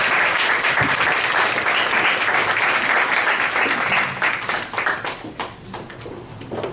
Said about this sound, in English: we love to give a round of applause for Dr. Denise McDermott.